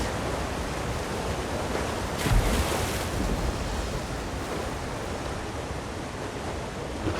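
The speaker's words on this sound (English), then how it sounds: "there is a little waterfall here" A small waterfall in The Elder Scrolls Online gives a steady, full rush of falling water, constant and fairly loud with no breaks, alone without voices.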